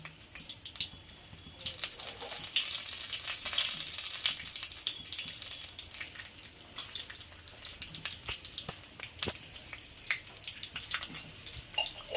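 Panch phoron spices and bay leaves sizzling in hot oil in a pan, a crackling, spitting fry with sharp pops that swells early then settles into steady frying.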